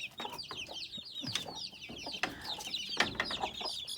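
Native chicken chicks cheep busily with a hen clucking among them, a soft, continuous chorus of high peeps and low clucks heard up close.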